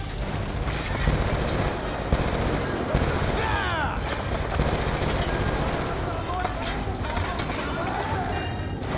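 A turret machine gun fires in Call of Duty: Black Ops 2 amid a steady barrage of gunfire and explosions that stays dense and loud throughout, with shouted voices mixed in.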